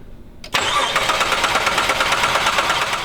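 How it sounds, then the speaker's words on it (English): Car engine cranking over on a no-start fault, a steady fast rhythmic churning that kicks in abruptly after a short quiet moment and keeps going loud and close. "have a partner with you to crank the engine over while you're feeling to see if it's sucking"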